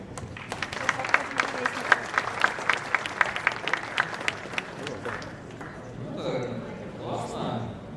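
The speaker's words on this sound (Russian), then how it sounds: "обязательно вы поблагодарили организаторов, ведущих, модераторов, всех громкими аплодисментами." An audience at an in-person leadership competition stage in Ufa applauds the organizers with rhythmic, loud clapping for about five seconds, after which the clapping dies away and a voice begins speaking.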